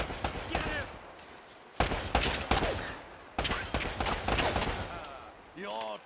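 Bursts of gunfire in the PS4 game Uncharted: Drake's Fortune, in the plane-wreck chapter: several sharp volleys with short gaps, loud and close, mixed with game sound effects and a brief voice.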